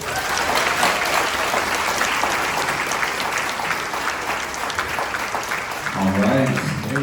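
Warm crowd applause welcoming a guest speaker at an evening event, sustained and loud, with a voice starting to talk as it continues near the end.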